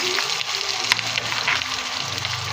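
Fish roe frying in fairly generous hot oil gives a steady, close sizzle with crackling pops throughout, with no one talking over it.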